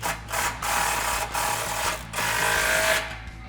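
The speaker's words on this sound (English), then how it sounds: "Grab a 15mm deep socket and tighten that guy down." Ratchet with a 15mm deep socket tightening an exhaust clamp on a 2009-2018 RAM 1500 5.7L during a Flowmaster muffler install, giving close, steady bursts of clicking strokes separated by short pauses.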